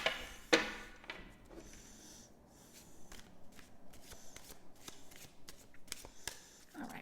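Tarot cards are shuffled by hand in quick papery riffles and taps, close up and fairly quiet, with a sharp snap near the start.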